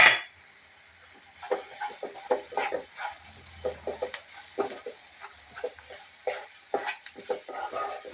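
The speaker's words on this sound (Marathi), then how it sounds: "त्याच्यामध्ये घरचं लाल तिखट 1 चमचा, नंतर धना पावडर, गरम मसाला 1 चमचा, मीठ, हे सर्व प्रथम आपण त्याच्यामध्ये मिक्स करूया" Red chili powder, coriander powder, garam masala and salt being stirred into fried onion and tomato in a pan, with scattered scraping and sizzling sounds, moderately close.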